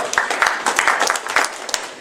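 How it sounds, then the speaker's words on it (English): Brief, scattered audience clapping during a close-up card magic performance, a handful of sharp individual claps over about two seconds, with faint talk underneath. "You can applaud him, yes,"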